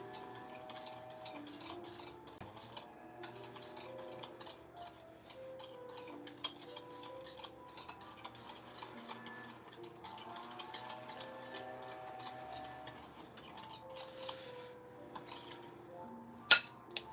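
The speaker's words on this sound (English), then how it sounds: "Stir this up." Cashews being stirred with a purple luster powder coating: quiet, steady clicking and light scraping of a utensil against a bowl, faint and continuous under soft background music, with a louder clatter near the end.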